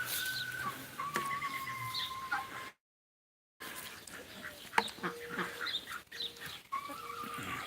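Farm chickens cluck and call outdoors at fairly close range, with scattered bird sounds and a short dropout of complete silence partway through.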